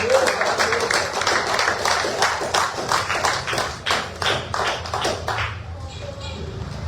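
A church congregation claps in praise of Jesus during a Portuguese-language service, with dense, fast applause filling the room and fading out near the end.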